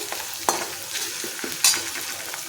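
Hot oil crackles around cloves, cumin, bay leaf and ginger-garlic paste for chole masala, a steady close sizzle broken by two sharper clinks of a spoon stirring against the pan.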